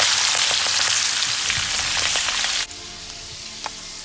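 Basil dropped into very hot, smoking oil for Thai green chicken curry, a loud dense frying hiss that cuts off abruptly and gives way to quiet crackles and a faint clink.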